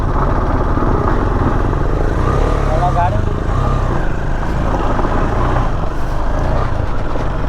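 A motorbike ridden on a loose, slippery road during a winter road trip, its engine a steady loud rumble with rough road and wind noise throughout, the rider's voice heard over it.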